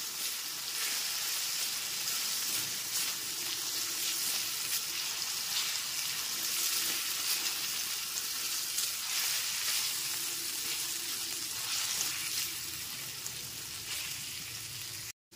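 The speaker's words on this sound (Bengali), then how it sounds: "গ্যাসের ফ্লেমটা লো টু মিডিয়ামে রেখে আদা রসুন বাটাটা একটু নাড়াচাড়া করে নিচ্ছি।" Ginger garlic paste frying in a pan over low to medium gas flame while being stirred, a steady loud sizzle with scraping and bubbling that carries on unbroken, no voices.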